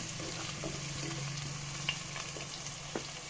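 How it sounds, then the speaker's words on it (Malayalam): Halved green chillies fry in a pan while cooking Yemeni mandhi, producing a low, even sizzling hiss throughout with a couple of faint clicks of utensils, fairly quiet and close. "ഇനി നമുക്കിതിലേക്ക് പച്ചമുളക് ചേർത്ത് കൊടുക്കുക."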